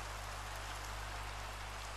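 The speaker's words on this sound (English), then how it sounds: "I know rain is a good thing" Steady, even rain hiss falls around an airport building in a construction video game, a faint uniform wash with a low steady hum beneath and no voices.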